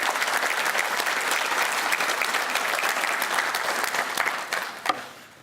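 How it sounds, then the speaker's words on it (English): A room full of people claps in thanks at a university football National Signing Day event, a dense sustained round of applause that fades out over the last second. "Let's give them a round of applause for all their help and for helping us."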